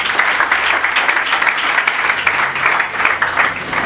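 Steady, dense applause from a gathered crowd fills a civil wedding ceremony, continuous and fairly loud without breaks.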